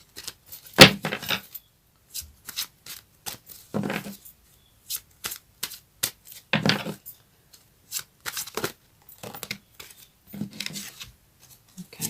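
Goddess oracle cards shuffled and handled in a series of short, crisp riffles and taps, spaced irregularly with quiet gaps between them, close and fairly soft.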